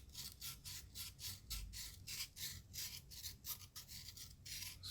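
Rhythmic back-and-forth rasping of sandpaper on a wooden Mossberg 500 shotgun stock, steady strokes repeating about twice per second, close and continuous.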